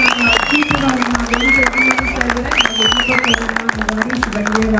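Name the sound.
audience applause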